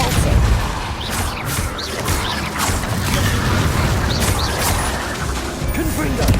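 Depulso spell cast in Hogwarts Legacy amid combat, a dense, loud stretch of booming impacts, crashes and clattering mechanical noise with scattered whooshes, continuous throughout.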